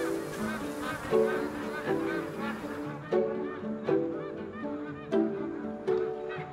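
Magpie geese honk repeatedly in Kakadu during breeding season, a loud, close flock of overlapping nasal calls in a steady pulsing rhythm.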